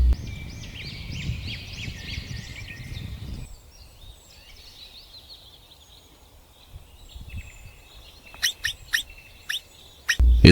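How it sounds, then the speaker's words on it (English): Wild birds in the African bush chirp and call in layered, overlapping song, then sharp high calls ring out near the end, heard alone with no talk. "Birds fly in flocks, calling each other in the clear sky"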